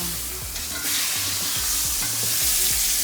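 A steak searing in a hot cast iron pan just after flipping, a loud continuous sizzle with rhythmic low scraping knocks, heard alone without speech.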